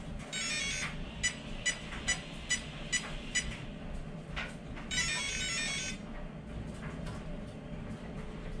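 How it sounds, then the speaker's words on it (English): An electronic speed controller on a twin-motor RC model with a 6S battery pack powers up with a quick series of short startup beeps, followed by longer tones, over a low background hum. "We'll count out the beeps."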